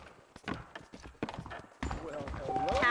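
A horse's hooves clip-clop in Red Dead Redemption, a series of close, uneven thuds followed by a denser run of steps, while dialogue plays over them.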